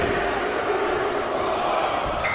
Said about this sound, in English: Oh man, just listen to the crowd!